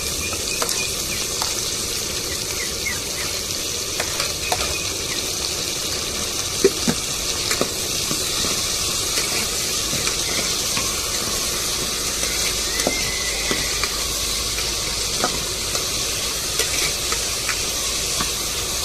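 Tomatoes and chillies fry in a pan for an egg curry, with a steady close sizzle and occasional stirring scrapes running without a break and with no voices.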